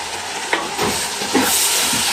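Capsicum, green chillies and potatoes fry in a pan with a loud, steady, close sizzling hiss, broken by a few soft knocks as the pieces are stirred.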